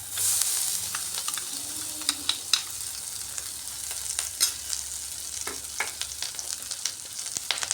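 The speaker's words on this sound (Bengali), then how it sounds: "ডিম ভাজার এই তেলের মধ্যে আমি যে মশলাটা কুটে রেখেছিলাম মশলাটা দিয়ে দিচ্ছি।" Ground spice paste sizzles and fries in the oil left over from frying eggs, a steady close crackle broken by occasional spatters and stirring clinks, with no talk.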